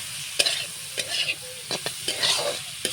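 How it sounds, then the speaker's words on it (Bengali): Chopped tomatoes sizzling in a pan are stirred with a spatula, giving a steady fry under a run of sharp scraping knocks and clatters, close by with no voices. "কেটে রাখা টমেটোগুলো দিয়ে ভালো করে নেড়ে চেড়ে নেব"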